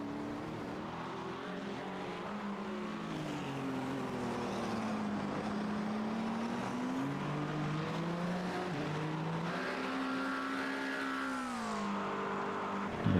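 A hypercar-class race car at the Le Mans 24 Hours accelerating from Arnage toward the Porsche curves, a loud continuous engine whine rising and falling in pitch through the gears with a sustained roar.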